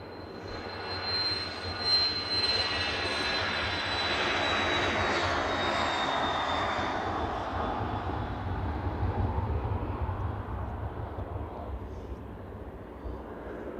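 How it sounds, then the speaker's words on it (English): NetJets Embraer Phenom 300 business jet at snowy Manchester Airport, a steady loud engine roar with a high whine that swells then slowly fades over about fourteen seconds as it passes. "It looks like a NetJets Embraer Phenom 300, which is going to Sion."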